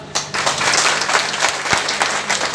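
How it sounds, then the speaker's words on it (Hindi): A crowd in a hall breaks into loud applause that builds quickly and holds dense and steady, with many hands clapping together. "एवं तालियां बजा दो"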